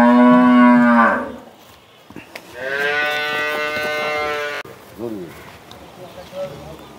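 A sturdy black-and-white dairy cow on a farm lets out loud, drawn-out moos, one at the start and a longer one midway, with people talking nearby toward the end.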